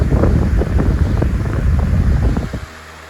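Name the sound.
Masterforce 14-inch floor fan running and spinning down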